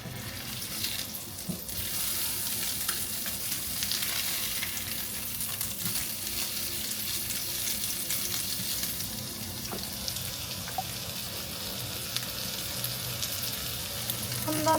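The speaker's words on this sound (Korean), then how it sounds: "구울 때 여기 가운데를 눌러줘야 구워지면서 안쪽이 이렇게 부풀거든요" A Korean-style hamburg steak patty sizzles in a frying pan, a steady close crackle and hiss running for about fifteen seconds with small pops, without talking.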